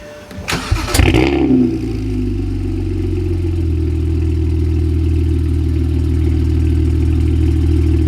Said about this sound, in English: Let me give you guys a cold start.